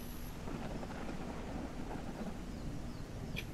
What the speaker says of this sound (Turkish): Ay, yağmur sesinden seni hiç duyamıyorum şu an.